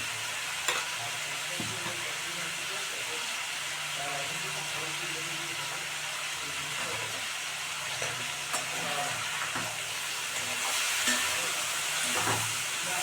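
A spice mix fries in a pan for a fig curry, with a steady sizzling hiss and scraping stirring strokes up close, swelling louder near the end; a voice murmurs faintly underneath.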